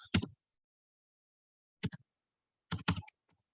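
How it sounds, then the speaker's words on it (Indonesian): Keys on a computer keyboard are tapped in three short, quiet clusters separated by silent pauses, close up and with no talking. "di sini kita ketik lagi, di sini ketik ulang"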